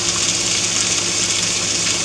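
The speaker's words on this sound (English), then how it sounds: "I'm only going to put about 1/4 of a cup of water in there" A quarter cup of water pours into a crock pot as a steady, close gushing splash over a faint low hum.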